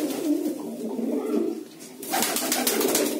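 Pigeons cooing close by, soft low throaty coos repeating, then a burst of brighter rustling or wing flutter near the end.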